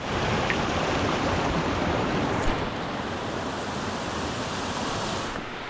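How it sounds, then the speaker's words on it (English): A constant, loud roar of rushing water from a mountain waterfall in remote Alaska, broad and unbroken throughout. "hiking up to these waterfalls in the mountain, you can hear them for quite some while"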